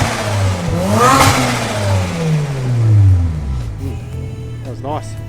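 A 1996 BMW Z3 with a swapped 13B rotary turbo engine revs with its aftermarket bonnet open: a loud, close engine rises and falls through a long sweeping rev, then a couple of quicker blips, with someone talking over it.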